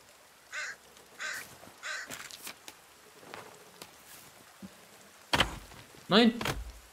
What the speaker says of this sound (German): Aber geil, das mit dem Raben hier jetzt.